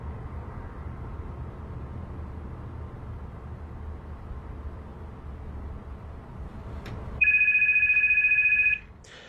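A telephone rings in a Vodafone advert, a steady electronic ring cutting in suddenly and loudly after a long stretch of low, hushed background noise, then stopping just as abruptly.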